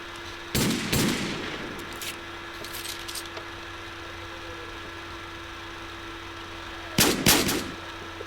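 M4A4 rifle firing in the Minecraft mod game Counter Craft: two short, loud bursts of rapid shots, one near the start and one near the end, with a steady low hum in between.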